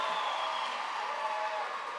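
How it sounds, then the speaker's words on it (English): Applause for a primary school's performance at a handover ceremony for a solar-powered media laboratory, a dense, steady wash of clapping from a crowd, sustained for the whole stretch. "Another round of applause, please, for Redtang Primary."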